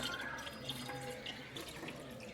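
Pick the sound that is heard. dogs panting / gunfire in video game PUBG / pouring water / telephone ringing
pouring water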